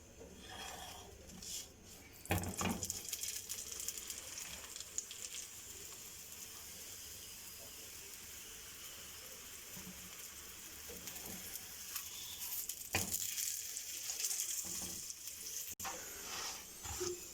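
A mooli paratha fries in oil on a pan over a medium flame, giving a soft, steady sizzle. Occasional scrapes and rubs from turning or pressing break through now and then, and the whole sound stays quiet and close.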